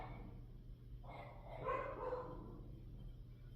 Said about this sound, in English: My dog's about to go crazy.